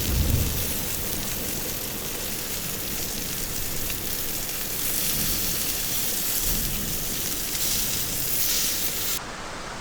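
Steady hiss of heavy rain falls throughout a thunderstorm at a backcountry camp by Hat Creek near Mt Lassen, with low rumbling underneath, close and continuous, while a ribeye cooks outdoors.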